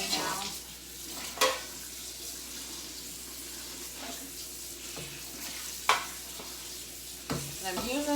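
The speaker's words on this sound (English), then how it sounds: "So I'm going to add my water in now." Water poured into a large pot of collard greens with smoked turkey, a steady splashing stream running under the kitchen hum with a few sharp clanks of pot and utensils.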